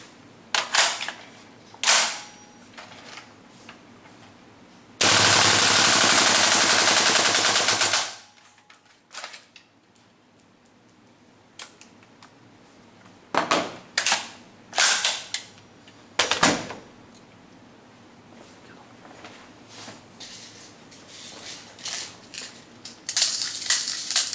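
A gas blowback airsoft gun fitted with an old-version magazine fires full auto in one dense, loud burst of about three seconds, then stops. Sharp clicks and handling noises are scattered before and after.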